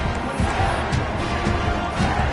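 A college football stadium crowd cheers steadily after a scoring drive, a dense, continuous roar of many voices with faint rhythmic swells, filling the whole moment at a strong, even level.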